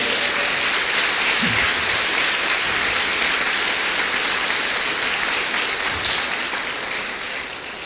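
A church congregation applauds steadily throughout, a dense and loud wash of clapping from a large crowd that holds without pause and tapers off only slightly at the end.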